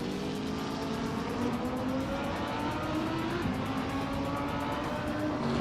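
Racing-game engines roar from a 2014 Dodge Viper SRT GR3 and rival cars, a continuous loud revving drone whose pitch climbs and shifts with gear changes, with no voices over it.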